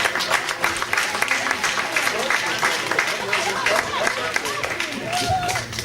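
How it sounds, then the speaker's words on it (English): Audience applause at an evening event as a gospel group takes the stage, a sustained crowd of clapping hands with some voices and cheers mixed in. "please give a round of applause to the Incredible Brotherhood"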